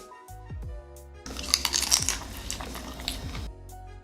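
Sharp, close crunching as crisp fried chicken wing gyoza is bitten and chewed, a dense burst of crackles after a few soft knocks.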